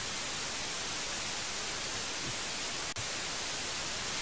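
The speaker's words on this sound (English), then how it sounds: "Oh, that's the TV. Somebody turned the white noise on." Broadband TV white-noise static from the web game Idagar hisses steadily and loudly throughout, with one sharp click near the end.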